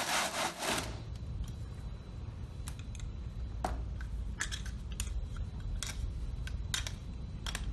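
Excess soil is scraped off the outside of a metal Proctor compaction mold, making a close, gritty rasp with a burst of loud scraping at the start and then scattered short scratches over steady background noise.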